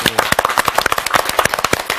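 A classroom audience claps together on cue, a close, loud run of sharp hand claps in a quick, uneven rhythm lasting the whole moment with no talk over it.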